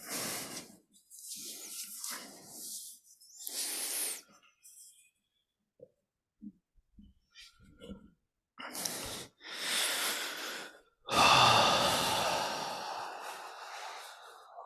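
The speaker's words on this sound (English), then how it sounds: "So it's a soft inhale and exhale." Slow, soft breaths, inhales and exhales drawn out over several seconds with quiet pauses between them, close and intimate, in a guided breathing exercise.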